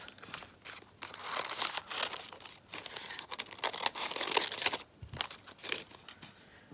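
Scissors cutting Bondaweb fusible web for appliqué stitching, heard as close, faint crinkly snips and rustling paper-like crackles in irregular bursts, with brief pauses between cuts.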